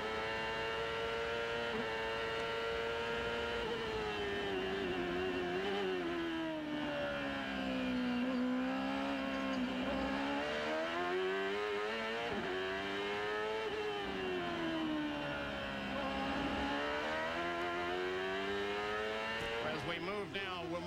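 Onboard sound from a 1996 CART race car at Laguna Seca: a loud, steady engine scream rising and falling as the driver shifts up through the gears, running without a break.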